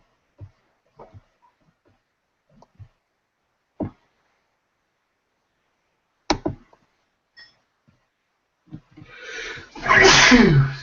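A loud, sudden sneeze bursts out near the end after scattered quiet sounds and short pauses.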